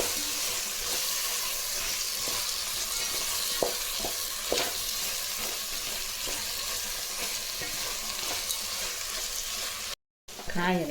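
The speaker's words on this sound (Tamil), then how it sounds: "காயெல்லாம் நல்லா வதங்கிடுச்சுங்க." Vegetables sautéing in a pan for sambar rice, a continuous loud sizzle with scraping stir strokes throughout, briefly cut off near the end.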